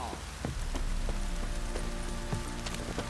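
A heavy downpour in the video game Witcher 3: Wild Hunt, a constant loud rain hiss with close, irregular hoof-like knocks and thuds scattered through it.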